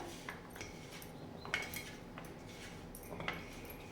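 Cut potatoes are mixed with cornflour using a metal spoon, producing a few faint, sharp clinks against the bowl over a quiet, steady background hiss. The clinks come at irregular intervals and no one speaks.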